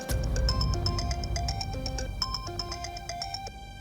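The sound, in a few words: phone ringtone, incoming call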